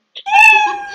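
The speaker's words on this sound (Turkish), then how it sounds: "miyav" A single cat meow from the Scratch sound library, a clear, close, drawn-out tonal call of about a second that rises and then fades, with no voices around it.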